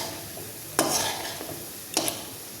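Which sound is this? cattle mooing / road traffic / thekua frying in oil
thekua frying in oil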